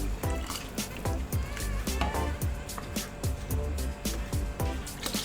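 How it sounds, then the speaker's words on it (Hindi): Water poured into a pot of fried meatballs (koftay) to make curry gravy, with a steady liquid splash and trickle punctuated by sharp clinks and knocks of utensils against the pot, close and continuous. "जितनी ग्रेवी चाहिए, हम उसमें पानी ऐड करते हैं।"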